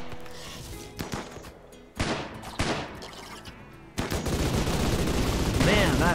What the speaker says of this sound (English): that minigun is, whoa, a little bit too excessive in my taste